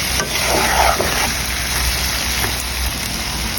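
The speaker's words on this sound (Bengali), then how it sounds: "আলু আর শিম দিয়ে ভালো করে মশলার সাথে নাড়িয়ে নেব" Potatoes and flat beans with spices are stirred in a hot pan, a loud, close, steady sizzle and hiss with faint scraping, alone without voices.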